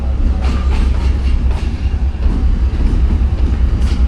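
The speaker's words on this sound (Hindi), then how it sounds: "6314 लीड करने के लिए आ गया है 47 अब रहमान बाबा एक्सप्रेस को।" Chinese locomotive number 6314 rolls in to couple onto the Rehman Baba Express, a loud, close rumble of heavy wheels with rhythmic clattering over rail joints and a steady low drone, no voices.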